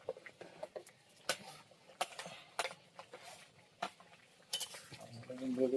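Eggplant from a home garden going into a cooking pot with potatoes for a pabda fish curry, heard as sharp, irregular clinks and scrapes of utensils against the pot, close and fairly loud, with a soft sizzle rising at the end.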